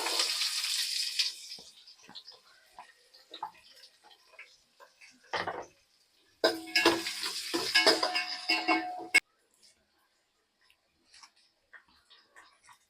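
Onions stirred and frying in a pan for fish curry with dried fish, giving bursts of sizzling and crackling with scraping, broken by quiet pauses and stronger spells of close sizzle.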